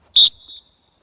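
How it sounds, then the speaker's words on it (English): A dog whistle gives one short, loud, shrill blast during a training command, followed by a fainter trailing tone that quickly dies away into silence. "Say sit, blow the whistle."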